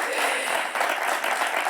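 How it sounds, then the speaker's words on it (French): Audience applause on a French television talk show, a dense, even patter of clapping filling the short moment, with no pauses in it. "on peut l'applaudir"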